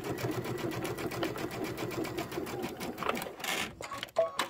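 A sewing machine stitches fabric for a quilt top in a steady rapid needle rhythm, slowing and stopping near the end with a few handling clicks.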